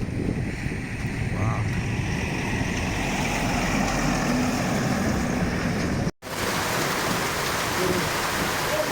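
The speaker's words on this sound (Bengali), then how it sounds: "বৃষ্টিও বাড়তেছে" Steady heavy monsoon rain hisses continuously in rural Bangladesh with a low rumbling background, broken only by a momentary cut near the end.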